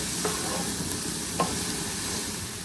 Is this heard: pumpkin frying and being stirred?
yes